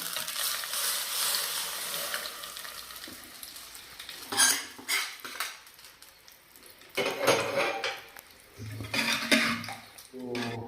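A hot oggarane tempering for ridge gourd sambar crackles and sizzles in an old iron pan, with bursts of spattering and metal clatter rising and falling over about ten seconds.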